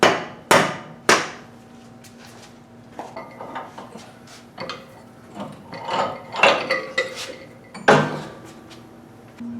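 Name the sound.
rubber mallet whacking bushing into control arm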